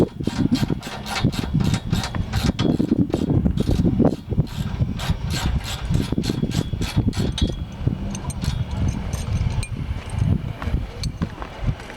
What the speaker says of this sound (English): Let's go around and go ahead and tighten up all the bolts.